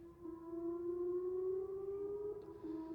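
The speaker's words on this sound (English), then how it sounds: "surrounded by the blaring rocket attack sirens" Loud rocket attack siren wailing steadily at night at a base in Kandahar, a sustained droning tone that holds for several seconds with no voices.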